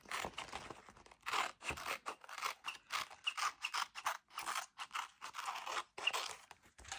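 Scissors snipping through paper for a handmade collage in pink and violet, a steady run of close, crisp cuts in short bursts with brief pauses between.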